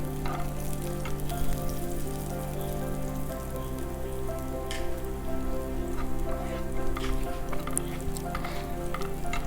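Garlic and green chilli fry in butter with a constant crackling sizzle and scattered pops, close and fairly loud over a low steady hum, with no voices.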